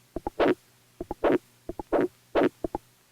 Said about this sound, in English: Burrfish possess a kind of built-in percussion section